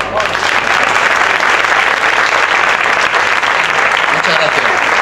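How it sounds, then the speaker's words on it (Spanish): Loud, sustained audience applause at a Roma community association presentation in Turre, 2011: a dense, continuous roar of many hands clapping at steady volume, with crowd voices faintly mixed in. "Por eso pido un fuerte aplauso para él."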